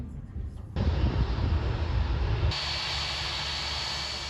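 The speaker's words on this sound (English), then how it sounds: "And here it comes, my aircraft for today" A 32-year-old classic Boeing 737-400 airliner, registered in Bulgaria and flying for GP Aviation, approaches with a broad steady jet roar that swells suddenly and settles into a sustained hissing whine.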